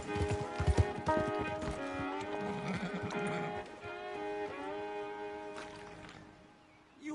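A horse in Red Dead Redemption 2 clops along and lets out a whinny, hoofbeats up front giving way to a drawn-out neigh, with a sustained musical drone underneath and a voice briefly heard.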